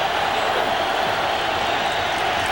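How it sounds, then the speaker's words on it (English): An Oakland football crowd at a 2002 AFC divisional playoff game roars in a steady, loud, continuous wall of cheering and noise, with no break across the stretch. "And the Oakland crowd on its feet."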